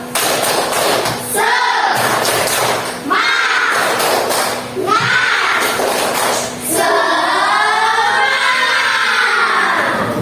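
A school class claps together in a rhythmic spirit clap, with strong, evenly spaced group claps in repeated patterns, loud and close, mixed with voices chanting along.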